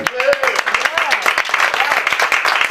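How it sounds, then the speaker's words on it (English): An audience at a stage play "The Reassurance" claps at an even rhythm, with a voice speaking over the clapping. "Let's give her a round of applause."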